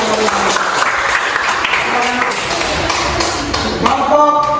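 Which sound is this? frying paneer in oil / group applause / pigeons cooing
group applause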